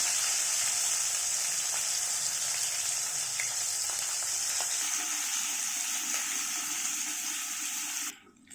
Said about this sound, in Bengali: তেল দিয়ে দিয়েছি কড়াইতে কই মাছগুলো ভেজে নিচ্ছি